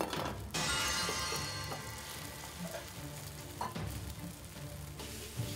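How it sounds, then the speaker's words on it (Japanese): Two kilograms of cooked rice are stir-fried for fried rice in a hot pan during a chef cooking contest, filling the clip with loud steady sizzling and scraping tosses of the spatula. "2キロのご飯を豪快に炒める。"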